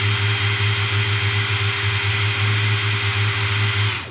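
A DeWalt DCD708 compact brushless 20V drill runs steadily in first gear with no load, giving a continuous, close, even motor whine with a low hum for about four seconds before it cuts off.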